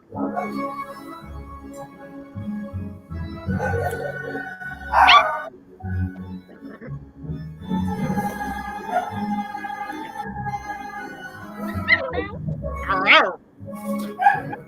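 A puppy making soft yips, whimpers and short barks at close range, scattered through the stretch while a person talks to it in a gentle, affectionate voice.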